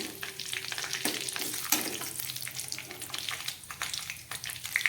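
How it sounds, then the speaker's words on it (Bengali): Dried red chilli, white cumin seeds and half a bay leaf sizzle steadily in hot oil for a potato curry, with crackling spits and a short tap-water splash partway through, fairly close and with no talk. "এবারে এই তেলের মধ্যে আমি দিয়ে দিচ্ছি একটা শুকনো লঙ্কা ফোড়ন"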